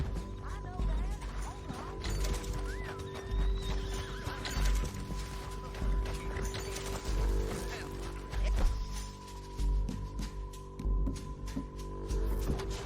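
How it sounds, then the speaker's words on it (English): Horses in Red Dead Redemption 2 clop steadily and neigh, with hoof beats and whinnies close by over a low droning tone and faint background murmur. "horses."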